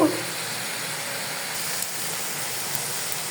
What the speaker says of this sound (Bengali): তরকারি কষানো হচ্ছে